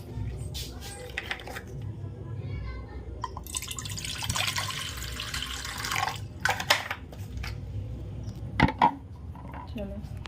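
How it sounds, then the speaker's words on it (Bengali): Water is poured into a pot to make tea in a home kitchen: a steady splashing pour lasting a couple of seconds, followed by scattered drips and light clinks of metal utensils, close by. "চলো চা বানাই। জল দিয়ে দিয়েছি। চা বানাই।"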